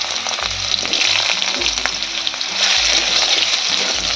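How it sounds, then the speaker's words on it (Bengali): Cut potato frying in oil in a pan, a loud close continuous sizzle with a few soft scraping stirs underneath. "আলুটা তেলে ভেজে নেব।"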